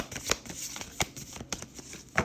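Tarot cards being shuffled in quick, irregular riffles and slaps, close by and fairly quiet, with no talking.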